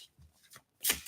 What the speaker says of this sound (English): While I shuffle, so I'm going to pull a few cards from the Wild Woman Rising now